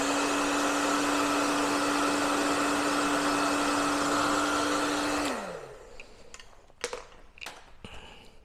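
Heat gun warming protective film on a bike frame, a loud steady blowing hum for about five seconds, then winding down and cutting off, followed by a few faint clicks and knocks.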